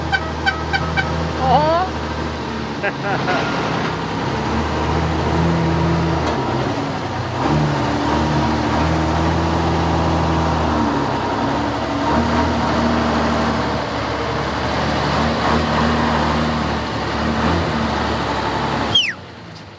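A turbocharged 1974 Mercedes-Benz 1113 truck engine idles and rumbles with a deep, uneven chug, loud and close, as a man briefly calls out over it.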